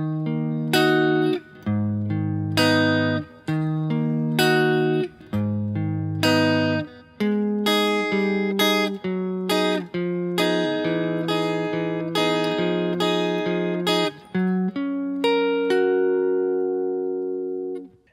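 Guitar plays a full run-through of a song, a steady, loud sequence of picked chords and notes with clear rhythmic attacks, alone with no talking.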